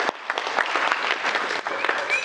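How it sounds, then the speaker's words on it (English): Wedding guests applaud the bride in a sustained burst of clapping from a full crowd, steady and close for the whole stretch with scattered cheers mixed in. "Round of applause for the bride."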